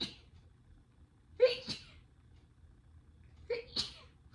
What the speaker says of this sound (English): I sneeze in multiples, like, all the time.